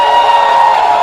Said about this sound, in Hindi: एक बार जोरदार तालियां दीपिका के लिए